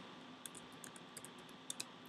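Faint, sparse clicks of someone typing on a computer keyboard in a quiet room, with irregular keystrokes and a slightly louder tap at the end.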